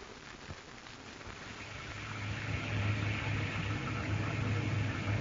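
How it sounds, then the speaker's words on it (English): Outside, a wind and rain storm makes a steady broadband wash of rain. It grows slightly louder and fuller partway through, with a low rumble underneath and no speech. "Hearing the wind and the rain."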